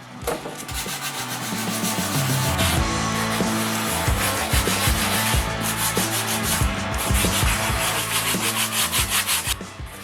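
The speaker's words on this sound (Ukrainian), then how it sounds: "за допомогою наждачки ми будемо шліфувати всі оці нерівності" Sandpaper rubs back and forth by hand over wood in quick, steady strokes, a close, continuous scratchy rasp.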